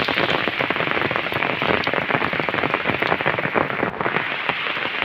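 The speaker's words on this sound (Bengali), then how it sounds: "খুব বৃষ্টি হচ্ছে কিন্তু আমাদের এখানে" Heavy rain pours steadily onto a hard surface, a dense, loud, unbroken hiss of drops with no voices.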